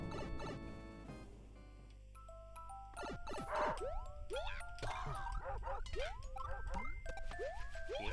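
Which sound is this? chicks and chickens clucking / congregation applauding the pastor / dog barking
dog barking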